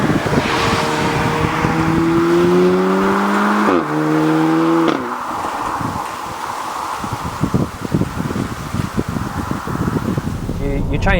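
An Audi S3 pulls hard away from a roundabout, the engine note rising steadily through a gear change with loud wind and road roar inside the cabin as someone talks over it.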